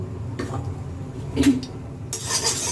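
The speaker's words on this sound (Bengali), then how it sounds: "এবার আমি চিকেনটা একটু অল্প তেল দিয়ে নেড়ে নেব।" Boiled chopped chicken stirred in a pan with a little oil, a spoon scraping and rubbing against the metal in uneven strokes over a soft sizzle, close by and without talk.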